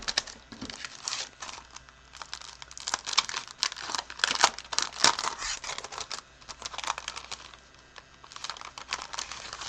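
Paper card-kit pieces get handled and shuffled, giving soft crinkling, rustling and tapping in irregular bursts, close and fairly quiet with no talking.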